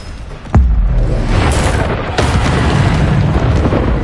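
A Bombarda blast erupts in Hogwarts Legacy combat with a sharp, loud boom, then a rolling rumble and a second burst under constant roaring battle noise.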